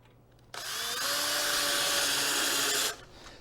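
A power drill drives mounting screws in for a retrofit installation, one close, loud, steady whirring burst of about two and a half seconds that rises sharply and then cuts off, with no talk.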